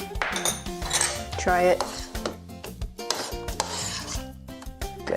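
Spoon stirring salt into a pot of cooking red lentils for Indian spiced lentils, giving close scraping and clinking of utensil against the pan, with a short spoken phrase over it.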